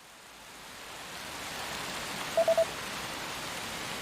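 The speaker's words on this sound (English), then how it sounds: "Aw, shoot, it's the rain!" Steady rain falling in the video game Dragon Quest VII, a broad even hiss that swells slightly and holds, with a short triple electronic beep near the middle.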